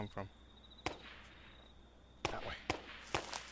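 Sharp cracks of gunfire in the video game Rust ring out a few times, scattered and somewhat distant, over a low steady background hum.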